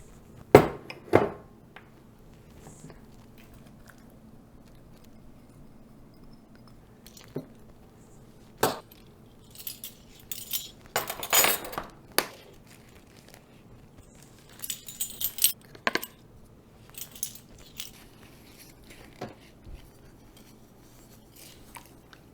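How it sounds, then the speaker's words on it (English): Ingredients for homemade ketchup with spices and mustard powder being stirred in a pot: scattered clinks and scrapes of a utensil against the pot, in irregular bursts separated by quiet pauses. "Let's add all of those ingredients, stir them up"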